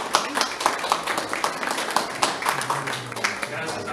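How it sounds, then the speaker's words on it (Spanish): At an art expo, a modest audience claps for Antonio Darias, a sparse, uneven patter of individual claps heard close, with a speaking voice running underneath. "un aplauso pediría por Antonio Darias"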